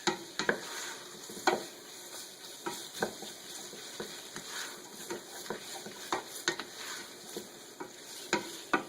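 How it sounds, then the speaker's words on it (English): Chili with garlic, butter and oil being stirred in a pot, a burgundy-wine chili: repeated scraping stir strokes and clinks over a low steady sizzle, close and moderately quiet, no talking. "Okay, I got that stirred up real good."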